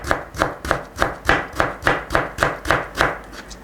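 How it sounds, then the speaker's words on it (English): Knife chopping through Asian pear into thin julienne on a cutting board, about a dozen steady, evenly spaced crisp cuts in a quick rhythm, close and clear with no talking. "I'm going to show you how I cut the Asian pears. And you have to cut it into very thin julienne."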